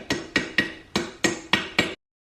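A hammer striking a chisel to knock out the pilot bearing on a BMW E28 driveline: seven sharp metallic knocks in a quick, slightly uneven rhythm, close and clear, then silence.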